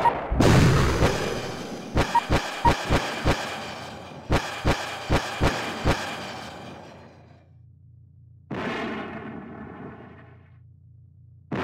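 Missile explosions in the Battle Engine Aquila video game, a big blast followed by a rapid series of about ten sharp booms in two bursts, then a whooshing rumble, loud and close.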